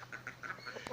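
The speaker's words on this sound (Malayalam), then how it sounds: "ഒരു താറാവ്." A duck quacks in a rapid run of short, nasal calls, fairly faint and close by, with no talking over it.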